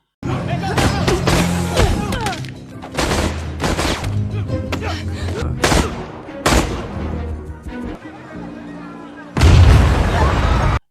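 A laboratory is blown up in an action film, with a burst of booming explosions and gunfire-like pops amid dramatic movie sound and background voices, ending in a loud, heavy blast.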